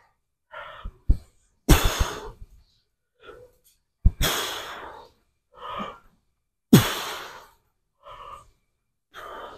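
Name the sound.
heavy breathing after leg workout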